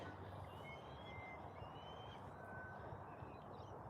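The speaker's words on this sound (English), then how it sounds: "I think that's the butcherbird call." A butcherbird in a lakeside park gives a faint, distant run of thin, lilting whistled notes over a steady wash of outdoor ambience.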